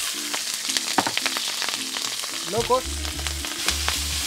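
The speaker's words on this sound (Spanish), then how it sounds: "Sartén caliente y vamos a agregar el aceite, eso, bien caliente, bastante aceite, y vamos a empezar con nuestras verduras" Vegetables fry in plenty of very hot oil in a skillet, a dense continuous crackling sizzle close up, with stirring scrapes and a brief spoken word over it.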